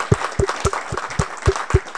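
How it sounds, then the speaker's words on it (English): Audience applause after a talk at a GNU Radio meetup in San Diego comes as sparse, evenly spaced claps, about four per second, sounding like only a few hands clapping nearby. "round of applause for Alex"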